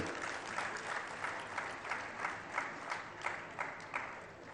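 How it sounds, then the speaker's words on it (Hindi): An audience at a Jain monk's sermon claps in steady, rhythmic unison. The pulses come evenly at a brisk pace, moderately loud and close, with no talking. "एक बार अपने लिए ताली बजा लो।"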